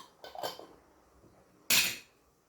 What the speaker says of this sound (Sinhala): අපි එකටම අපේ පාන් පෙති දෙකක් අරගෙන ඒකට මයොනේස් වලින් ටිකක් දාලා